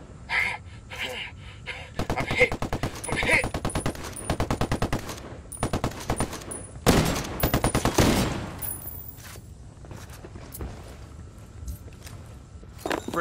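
Rapid automatic gunfire rattles in long, loud bursts during a firefight in the video game Ghost Recon Wildlands. Shorter volleys and scattered shots come between the bursts, with some voices briefly under the noise.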